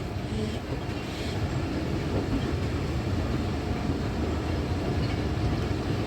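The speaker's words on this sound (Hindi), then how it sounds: "स्लो स्लो यहाँ से मूव कर रही है।" Rehman Baba Express easing slowly out of Taxila station, a constant heavy rumble of carriages rolling on the rails, loud and unbroken with no speech.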